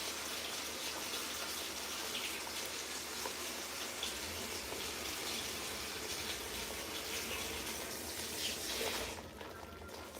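Hot water pours in a steady, full gush into a cooking pot during jollof rice preparation, running continuously for about nine seconds before cutting off.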